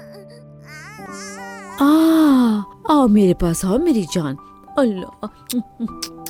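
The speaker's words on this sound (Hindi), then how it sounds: "बच्चे की रोने की आवाज नहीं आ रही?" An infant cries in wavering, sobbing bursts throughout a dubbed Turkish drama scene, loud and close, while someone speaks soothingly over it and a steady background tone runs underneath.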